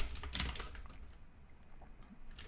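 Someone types quickly on a computer keyboard, a dense patter of light clicks nearby in a quiet room, fading toward a few scattered keystrokes.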